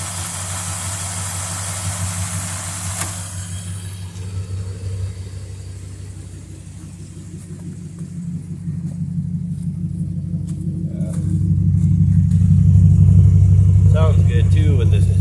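A pickup truck's engine idles with a steady low rumble through a stock muffler that has a hole in it, giving a dual-exhaust tone. The rumble swells louder toward the end as it revs, and a voice talks over it.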